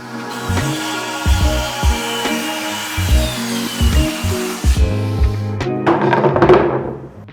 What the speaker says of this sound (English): This is a panel saw, just like they have at Home Depot.